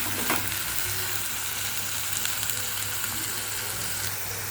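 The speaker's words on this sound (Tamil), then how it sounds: "அரைச்ச வெங்காயத்தை நல்லா பச்சை வாடை போகிற அளவுக்கு வதக்கலாம்." Ground onion paste sautéing in a pan for mushroom gravy, with a steady close sizzle and faint occasional stirring scrapes throughout, no voices.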